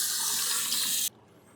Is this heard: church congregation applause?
no